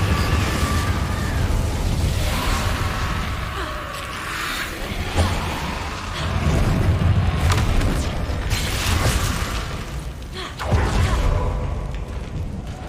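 Confringo and Incendio spell blasts in the Hogwarts Legacy video game land as repeated deep booms and fiery bursts, loud and close, with rumbling swells between the impacts.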